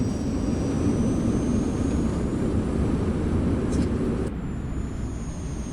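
Eurofighter Typhoon jet in Microsoft Flight Simulator on a carrier landing approach with speed brake and gear deployed, a steady loud engine roar and airflow rush throughout, with a brief mechanical shift near the four-second mark.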